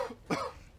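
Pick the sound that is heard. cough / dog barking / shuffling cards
cough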